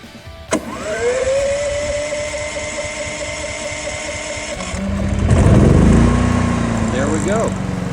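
Harbor Freight Predator 11,500-watt generator running on propane: a sharp click and pull start, then a steady engine drone that rises and settles, with the pitch shifting near the end.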